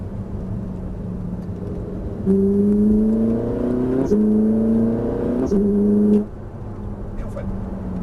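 A car on a Lohéac driving course roars up through rising revs, with two sharp gear changes breaking the climb, then drops suddenly to a quieter idle-like rumble as it brakes and downshifts.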